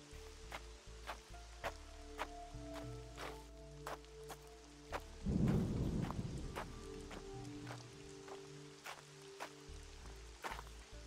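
Rain falls steadily through a video game thunderstorm, and a deep rumble of thunder swells near the middle. Sustained musical tones run underneath.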